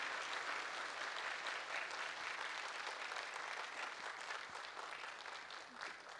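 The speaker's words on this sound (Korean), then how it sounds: "여러분 다시 한번 뜨거운 박수로 축하해 주시기 바랍니다." Audience applause at the launch ceremony for the submarine Dosan Ahn Changho, heard as a sustained wash of clapping that stays even and continuous, somewhat distant and faint, with no voices over it.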